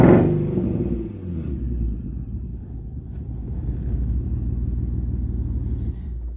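An Infiniti G35 with a VQ engine runs rough and uneven, as if down on a cylinder; a loud initial burst gives way to a low, lumpy rumble that carries on steadily nearby.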